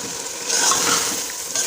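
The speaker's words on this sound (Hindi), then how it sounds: "तो इसको हम भून लेते हैं।" Chicken and white beans stir-fried in a pot, giving a steady loud sizzle with a scraping swell of stirring partway through, close up and without talk.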